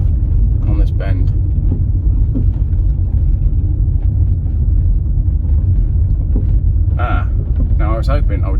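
Steady low rumble of a Citroën C8 people carrier cruising along a bending road, heard from inside the cabin with constant engine and road noise, a few faint voices breaking through now and then.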